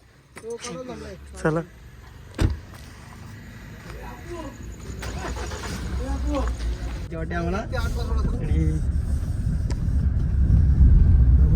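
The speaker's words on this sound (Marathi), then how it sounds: "ड्रायव्हर चला ड्रायव्हर गाडी चालवा" People talk and call out, then an engine starts and a car's rumble steadily grows louder over the last few seconds.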